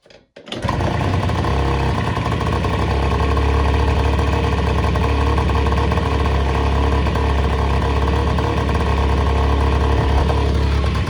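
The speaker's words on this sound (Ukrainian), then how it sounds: "Тепер заводиться з першої пічки без проблем." A moped scooter engine starts after a brief knock and then settles into a loud, steady idle, its rough, buzzing putter running unbroken for about ten seconds, close by and with no one talking.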